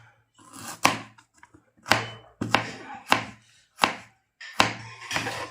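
Knife chopping onion finely on a board, sharp close chops in six short bursts spread through the stretch, each a crisp thwack with brief rustling between.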